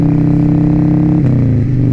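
A Harley-Davidson Sportster 1200 engine runs loud and close during a ride, a deep throbbing rumble with a steady pulse that shifts pitch briefly midway and continues unbroken.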